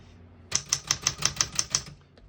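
A 1960s Smith-Corona Riviera portable typewriter types eight crisp, evenly spaced keystrokes close up, each a sharp metallic clack in a steady rhythm, with no voices.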